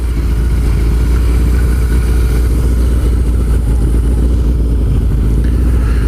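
A Suzuki GS850 motorcycle engine idles loudly and steadily up close, a dense continuous low throb with even mechanical pulsing and no pauses.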